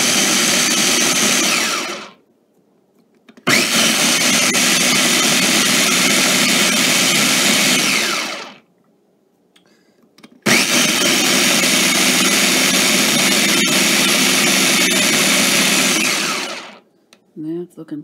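A Ninja blender chops ingredients for tacos al pastor in three long, loud whirring pulses separated by short silences, with a faint clatter at the very end.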